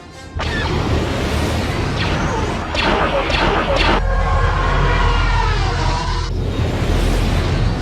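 Heavy crashing explosions and a deep rumble from a bombing run in a Star Wars space-combat video game fill the clip. The sound is loud and continuous, with bursts of harsher blasts partway through.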